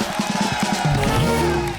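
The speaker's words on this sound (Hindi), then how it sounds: "डॉक्टर साहब के लिए एक बार जोरदार तालियां हो जाए।" A television comedy talk show's studio audience cheers and claps loudly to welcome a guest Hindi poet, a short dense burst of crowd noise and whoops with tonal music threaded through it.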